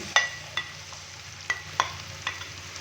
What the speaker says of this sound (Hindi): अदरक और लहसुन के पेस्ट को हल्का सा फ्राई करने के बाद अभी हम इसके अंदर चिकन का कीमा डाल देंगे।